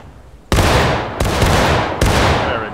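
A musket volley from massed infantry in the War of Rights video game, heard as three loud, ragged bursts of gunfire in quick succession, each rolling on into echoing noise that never dies away.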